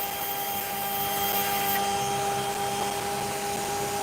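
Steady whine of a lapidary machine trimming the edge of an opal, a continuous motor drone with a faint grinding hiss running unbroken at close range.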